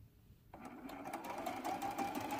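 A sewing machine stitches a seam in a t-shirt quilt, starting abruptly after a brief quiet moment and running on as a close, steady mechanical whir with rapid needle clatter.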